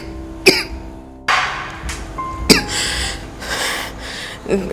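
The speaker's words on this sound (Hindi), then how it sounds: "ये अचानक तुम्हें खांसी क्यों हो गई?" A woman coughs in sharp, separate bursts, three or four distinct hacking coughs with quiet breathing between them, close and clear, as if something is caught in her throat.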